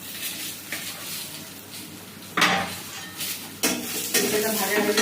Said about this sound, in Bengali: পেঁপেটা ভাজা হয়ে গেছে, ডালের মধ্যে দিয়ে দেবো